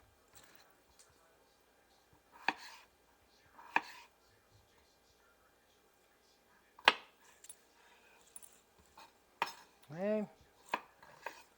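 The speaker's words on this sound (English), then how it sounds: "Cutting potatoes, oh yeah, that's what I'm doing." A knife chops through potatoes on a board in a home kitchen: a handful of sharp, separate cuts spaced seconds apart, with scattered quiet talk between them.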